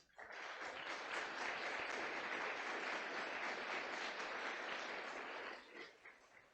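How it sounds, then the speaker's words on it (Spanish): A church congregation gives a sustained round of applause, a dense steady roar of clapping from many hands that fades out near the end, with no voices over it. "Dele un aplauso al Señor."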